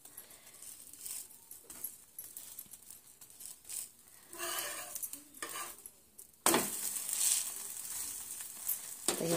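Oil added to an aloo paratha on a hot pan, giving a steady sizzle with light scraping and utensil clatter that swells sharply partway through and stays loud to the end.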